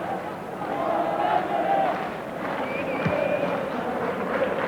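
The Anfield football crowd at Liverpool v Ipswich Town makes a steady, broad roar with murmuring and scattered calls, a large distant mass of noise with no single voice standing out.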